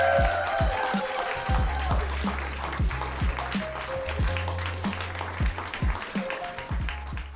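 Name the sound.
audience applause for a comedian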